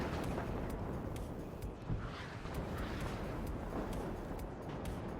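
D30 cannon artillery firing on mortar positions in WARNO, a dense, faint rumbling battle mix with scattered sharp reports and low booms layered over continuous noise.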